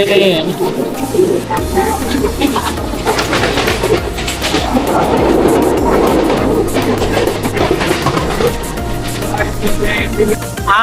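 Low engine drone and steady rumble of a train, with pigeons cooing and faint voices mixed into the busy surroundings.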